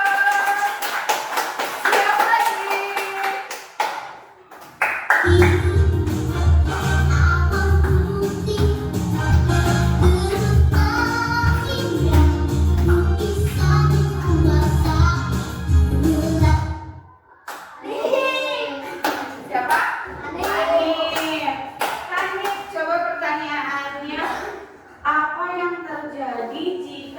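Children in a Grade 3 science classroom break into a long burst of applause, dense clapping lasting about twelve seconds, with a teacher speaking before and after it.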